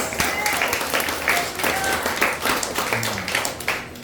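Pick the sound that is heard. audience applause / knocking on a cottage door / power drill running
audience applause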